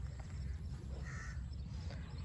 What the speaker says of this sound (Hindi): कौवा।